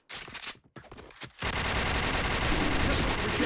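Video game gunfire from Point Blank, a few sharp shots up front and then a dense, unbroken burst of rapid automatic fire that stays loud to the end.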